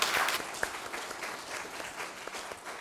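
Audience applause for a translator at a talk, a brief burst that starts full and gradually thins into a softer, scattered patter of clapping hands.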